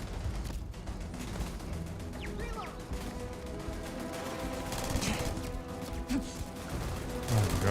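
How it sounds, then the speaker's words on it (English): Gunfire from the Starfield: Shattered Space video game, a dense continuous fusillade of shots and crashes running steadily under a busy game mix, with faint talk in places. "there's so many bullets flying right now"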